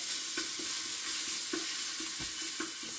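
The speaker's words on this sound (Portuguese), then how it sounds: "Agora eu vou fritar o alho." Crushed pure garlic, unsalted, sizzles steadily in a hot pan with oil, with soft clicks of a utensil stirring it at intervals throughout.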